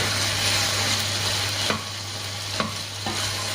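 Potatoes and zucchini stirred in a pot for a fasting-style vegetable dish, giving a steady close sizzle with a few sharp spoon scrapes and knocks, with no talking.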